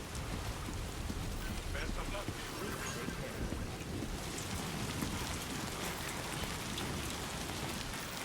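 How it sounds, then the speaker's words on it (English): Timefall rain in the Death Stranding 2 video game, a steady dense patter of rain hitting surfaces with wind-like rushing, constant and fairly loud throughout. "This is the rainfall he was talking about."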